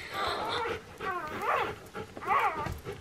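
A newborn German Shepherd puppy whimpers in high, wavering squeals, three or four close cries separated by brief pauses.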